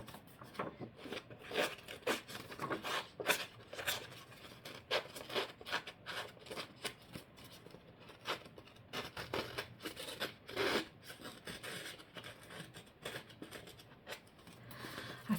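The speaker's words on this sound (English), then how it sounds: "scissors will do just as well." Scissors scraping and roughing up the surface of paper in quick rasping strokes, close and fairly quiet, repeated steadily with no voices.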